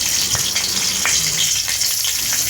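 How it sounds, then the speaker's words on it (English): Fiddlehead fern greens fry in mustard oil tempered with dried red chili, green chili, kalonji and crushed garlic, giving a loud, steady sizzle with a few brief crackling pops throughout. "Mom tempered the mustard oil with dried red chili, green chili, kalonji and crushed garlic, and then she added the greens."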